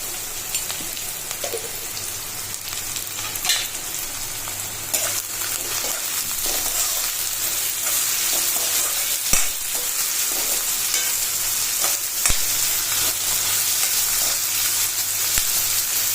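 Carrots, green peas and onions fry steadily in a pan for aloo kurma, a continuous close sizzle with occasional stirring scrapes throughout, no voices.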